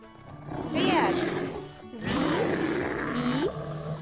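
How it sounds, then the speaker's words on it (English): Deep roar of a bear in a children's animal-names sequence, two long growling bursts, loud and close, with a short gap between them. "Bear."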